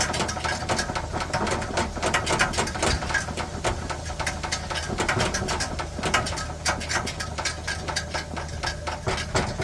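A rapid, continuous mechanical pumping chatter runs throughout as an older naphtha camp stove is pressurized, dense and rhythmic, close and fairly loud, with no talking.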